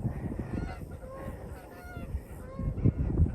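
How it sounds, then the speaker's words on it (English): A flock of waterfowl calls as it flies overhead, honking repeatedly at a moderate distance over steady background noise, at an outdoor rifle range. "bunch of ducks flying over."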